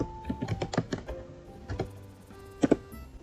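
Keys clatter on a computer keyboard while terminal commands are entered, a burst of quick taps followed by a pause and a couple of firmer strokes, close and fairly quiet.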